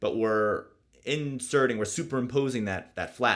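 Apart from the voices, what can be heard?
No distinct noise like a dog, phone or traffic.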